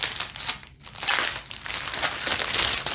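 Crystal kit packaging torn open by hand, a steady crinkling, crumpling rustle of wrapper material close up, with a brief pause early on before the tearing resumes and continues loudly.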